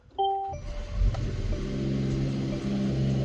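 A 2020 Mercedes-Benz GT 53 AMG engine starts after a short chime, catching with a quick rev and settling into a steady low idle rumble, close and alone.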